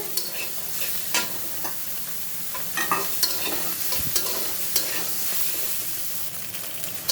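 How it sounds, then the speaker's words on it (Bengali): Soybean chunks fry in hot oil with turmeric, giving a steady close sizzle broken by scattered stirring clicks and scrapes in the pan. "সয়াবিনগুলো তেলে ভেজে নিব আর আমি তেলের ভিতরে হলুদ দিছি কারণ যাতে আমার সয়াবিন দেওয়ার পরে তেল না ছিটে"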